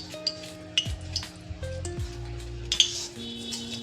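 Cumin seeds hitting hot oil in a pan while making bhagar, a quick fasting dish, with short sizzling bursts and metal clinks of pan and utensils close by, no voices.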